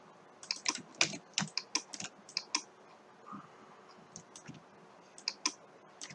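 Computer keyboard being typed on with mouse clicks while copying images in a design layout app, a quick irregular patter of close, crisp keystrokes and clicks with short pauses, no talking.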